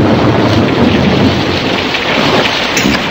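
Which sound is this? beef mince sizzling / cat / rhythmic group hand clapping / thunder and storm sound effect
thunder and storm sound effect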